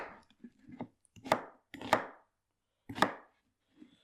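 Onions being chopped with a knife on a cutting board for a masala paste, a handful of close, crisp thuds spaced irregularly with quiet gaps between.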